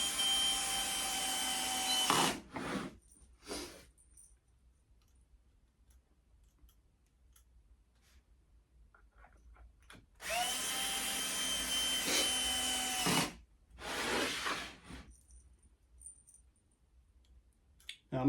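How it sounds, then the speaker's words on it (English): A power screwdriver drives screws through pre-drilled holes into a display case frame, sounding in two long whirring bursts with shorter follow-up bursts, close and loud against near silence between them. "go through these pre-drilled holes to attach the frame to the back panel"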